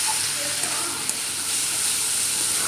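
Boiled chickpeas and potatoes sauté in a spice masala, giving a soft, continuous sizzle and steam hiss with faint occasional stirring, close and moderately quiet.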